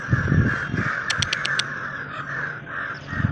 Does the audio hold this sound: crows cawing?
yes